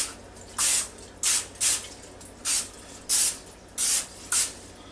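Cooking spray spritzed onto a brownie pan over a sink in seven sharp, hissing bursts, each lasting about a quarter second with brief quiet gaps between them.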